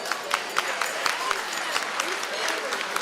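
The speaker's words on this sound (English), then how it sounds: "Oh, I like the clapping. Let's do that." Crowd applause at a fundraising gala, a steady wash of clapping with a few sharper individual claps standing out, moderately loud and continuous throughout.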